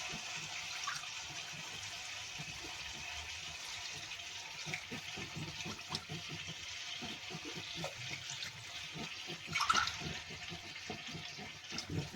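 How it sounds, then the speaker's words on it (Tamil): Steady gush of water poured from a container into a cooking pot of rice, a continuous splashing flow with a brief louder surge near the end, no talking. "3 கிளாஸு 6 கிளாஸு தண்ணி ஊற்றுறோம்."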